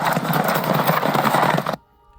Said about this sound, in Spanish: llegaron un montón de soldados romanos en caballo